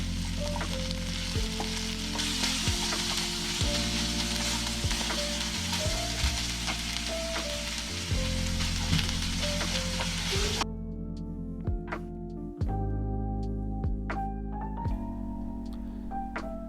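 Veg pulav stirred in a pan after salting, a soft frying hiss under steady background hum, then quieter repeated scraping and clinking of a spoon against the pan.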